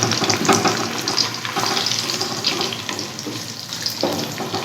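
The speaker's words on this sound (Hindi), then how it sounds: "प्याज को हमने ब्राउन कर लेना है।" Chopped onion fries in oil for chicken yakhni pulao, a steady, close, even sizzling hiss that carries on throughout without speech.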